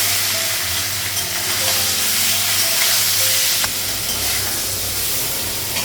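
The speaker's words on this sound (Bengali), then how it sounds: "পনিরটা লাগানো হালকা ভেজে নেব।" Paneer frying lightly in a kadai on a home gas stove gives a steady, close sizzle and hiss that runs unbroken and fairly loud, with occasional stirring sounds and no talk.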